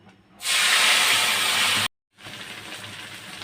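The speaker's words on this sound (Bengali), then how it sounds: "তেল গরম হয়েছে দেবো দুটো তেজপাতা আর দেবো সর্ষে বাটা" Bay leaves and mustard paste hit hot mustard oil in a kadai with a loud, close, steady sizzle. It cuts off briefly, then returns as a softer continuous hiss, with no talking.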